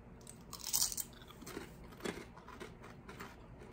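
Crunchy chewing of a BeanBoozled jelly bean, close and clear, with a loud burst of crunching near the start and softer bites and chews after it, no talk.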